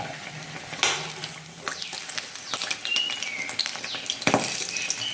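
Sabudana vadas frying in oil sizzle softly up close, broken by scattered clinks and scrapes of a utensil against the pan, with one sharp clatter near the end.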